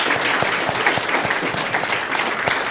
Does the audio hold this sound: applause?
yes